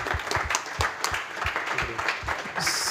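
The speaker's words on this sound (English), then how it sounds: "give him a round of applause" Audience applause breaks out after a conference talk on an art and industry panel, dense overlapping claps filling the room, with a brighter hiss of clapping rising near the end.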